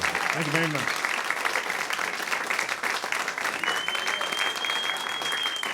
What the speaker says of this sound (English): Oh, and the crowd goes wild.